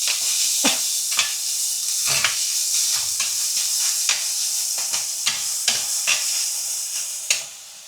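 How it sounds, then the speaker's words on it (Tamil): Onions sautéing in a pan after a spice tempering, a steady high sizzle broken by repeated scraping stir strokes, close and fairly loud, with no talking. "தாளிச்சிட்டு வெங்காயம் போட்டு வதக்கப்போம்"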